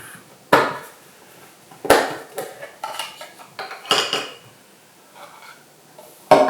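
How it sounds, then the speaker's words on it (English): A compact Naturehike folding camping stove being folded up, giving several sharp metallic clacks and clinks from its hinged parts, separated by shorter rattles and scrapes, close and fairly loud. "So this one folds like this."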